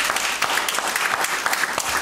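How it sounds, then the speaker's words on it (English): A church congregation claps their hands in praise during a service, a dense, even wash of applause filling the whole moment without a break. "Give the Lord a hand clap again"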